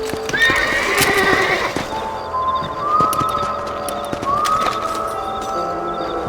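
Horse hooves clip-clop along as horses whinny and neigh a couple of times, with faint bird coos in the background, in the video game Red Dead Redemption.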